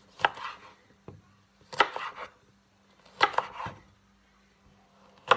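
Knife cutting a lime into small wedges on a board, four firm chopping strokes at an even pace, each with a short thud and scrape, close up.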